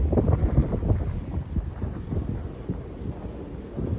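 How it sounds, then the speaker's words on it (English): Steady gusting wind buffets the microphone, a low rumbling roar that swells and eases throughout with no voices. "Now it's gonna get windy."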